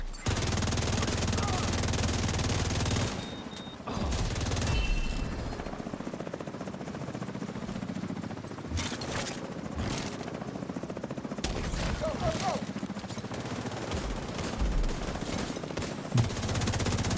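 Video game firefight with bursts of automatic gunfire and sharp shots, several loud volleys at irregular intervals over a low rotor-like rumble, close and punchy.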